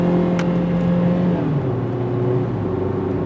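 A 2003 Volkswagen Jetta sedan's 2-liter engine revs and climbs in pitch as it accelerates, shifting gears partway up to fourth gear at 55 mph, loud and steady from inside the car.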